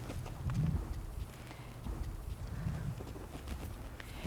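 A ridden horse moving at a walk during a riding lesson, its hooves giving soft, steady thuds over a constant low outdoor rumble, fairly close but quiet.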